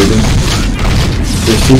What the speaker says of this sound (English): Keep shooting, just keep shooting.